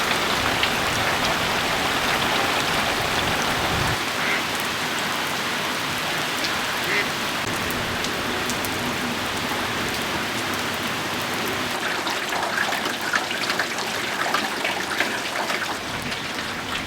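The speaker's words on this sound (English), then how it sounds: "we got some great rain this week" Heavy monsoon rain pouring in the desert, a loud, dense and constant hiss of drops striking surfaces with no pauses, plus faint speech underneath.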